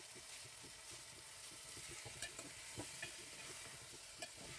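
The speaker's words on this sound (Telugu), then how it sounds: "వేసి ఇది మొత్తం కలిసేలా అయితే మిక్స్ చేసుకోండి" Chopped tomatoes being stirred in a frying pan, a faint, steady sizzle with occasional soft scrapes of the spoon against the pan, close but quiet throughout.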